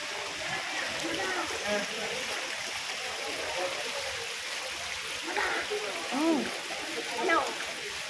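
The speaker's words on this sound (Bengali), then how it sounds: "ঝর্নার ফিলিংস মনে হচ্ছে, ঝর্ণা" A waterfall-fed stream rushes with a steady broadband wash of flowing water throughout, while voices chatter and call out over it, rising briefly near the end.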